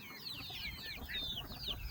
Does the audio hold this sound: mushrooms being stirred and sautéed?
no